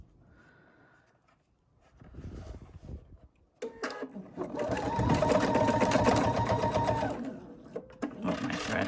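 A sewing machine stitches fabric for a Kimberbell Cuties quilting project. After a quiet start with faint handling noises, it runs in a fast, close, continuous whir for several seconds, pauses briefly, then starts again.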